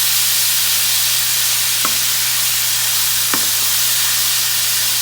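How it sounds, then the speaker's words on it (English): Ground beef fries in a pan with a loud, steady sizzling hiss, while a spoon breaks the meat apart with two brief scraping taps against the pan. "I like just to use my spoon just to chop it up a little bit"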